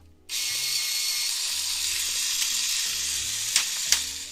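An electric pencil sharpener grinding down a colored pencil blender, a steady close whirring drone lasting several seconds, with a couple of brief clicks near the end and no talking.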